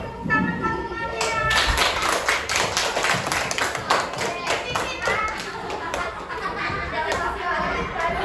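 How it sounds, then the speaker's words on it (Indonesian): Schoolchildren applaud a classmate in a classroom, a burst of many hands clapping fast and unevenly for several seconds, with children's voices mixed in. "Kasih tepuk tangan buat temannya."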